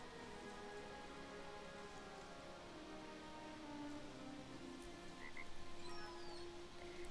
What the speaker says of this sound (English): Hello, frog.